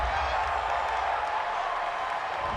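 Stadium crowd at an NFL AFC Championship game between the Buffalo Bills and Pittsburgh Steelers reacting to a roughing-the-passer penalty, a steady, dense roar of many voices with no break, loud and filling the space.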